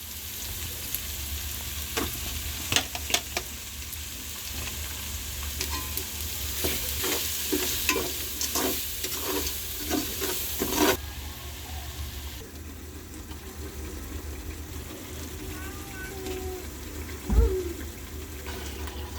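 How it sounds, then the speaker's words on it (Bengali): Ground spices and chili powder fry in oil for a desi chicken curry, with a constant sizzle under repeated scraping stirs of the pan. The stirring eases into a softer simmer later, broken by one brief knock. "সব মশলা ভালোভাবে কষাতে হবে।"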